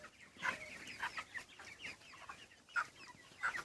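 Broiler chickens on straw litter in a poultry farm give short, scattered clucks, several close birds calling at uneven intervals with no talking.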